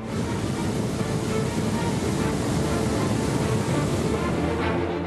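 Swollen floodwaters of the Godavari river rush past in a dense, loud, unbroken roar that holds steady from start to finish.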